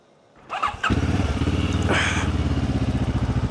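A Benelli TRK 702X motorcycle engine cranks briefly and catches, then settles into a steady, close, pulsing idle with no talk over it.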